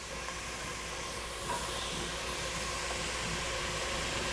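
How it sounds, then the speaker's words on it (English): A mirepoix of diced onions, carrots and celery cooks in a soup pot, giving a steady, even sizzling hiss that carries on unbroken, without any speech. "add it to the mirepoix that's already cooking in there"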